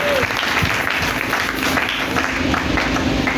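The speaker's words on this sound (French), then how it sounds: "est-ce qu'on peut acclamer pour Jésus?" A church congregation applauding for Jesus at a New Year's Eve service, dense continuous clapping from many hands filling the room, loud and steady throughout.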